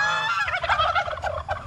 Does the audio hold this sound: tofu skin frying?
no